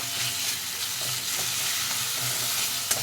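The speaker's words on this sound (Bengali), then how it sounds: "ভালো করে ভেজে নেব আদা আর গন্ধ চলে যাবে" Ginger-garlic paste frying in a pan with onions while being stirred, a steady close sizzle broken by soft scraping strokes of the spoon and a sharp knock near the end, no voices.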